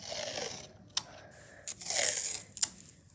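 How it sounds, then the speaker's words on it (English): Masking tape pulled and torn against the sharp teeth of a tape dispenser: sharp clicks followed by a bright, rasping rip, close and fairly loud, with no voices. "Masking tape works like this. We grab it and pull down on the sharp teeth"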